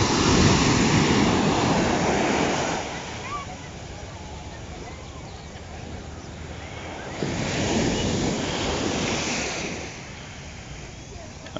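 Surf rolling into the main bay at Puerto Escondido, Oaxaca, on a stormy day before a hurricane, a loud broad wash of breaking waves with wind buffeting the microphone, swelling again after a quieter stretch.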